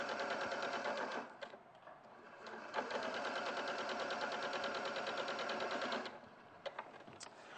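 A sewing machine stitches cotton fabric along a drawn line, whirring loudly and steadily at close range. The run breaks off briefly near the start, resumes, then stops, leaving a few light mechanical clicks.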